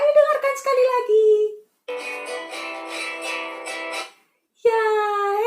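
A guitar plays a few seconds of strummed, ringing chords on its own, with a voice talking just before it and another voice starting right after.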